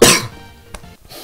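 A single harsh cough bursts out at the start, followed by a brief throat sound and a quiet pause, heard close up.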